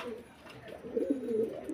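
Pigeons cooing at a pigeon farm, soft low throaty coos rising and falling steadily over about two seconds, close by and fairly faint with no talk.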